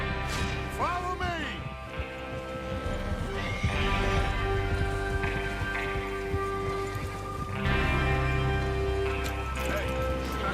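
Horse hooves clip-clop steadily in the Red Dead Redemption 2 video game, joined by a loud whinny and snorts, with voices and a rain-like hiss in the background.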